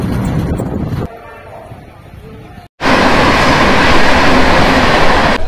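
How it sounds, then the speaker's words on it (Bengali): The Agnibina Express pulls into Durgapur railway station with a loud, sustained rumble that cuts in abruptly after a quieter stretch of platform ambience and continues steadily. "আর এখন একটা ট্রেন এলো অগ্নিবীণা এক্সপ্রেস"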